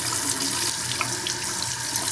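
Running tap water splashing into a sink while a dirty makeup brush is swirled in dish soap and water, a steady close rushing wash with small sloshing bursts and no talking.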